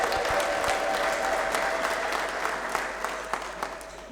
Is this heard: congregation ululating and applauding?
yes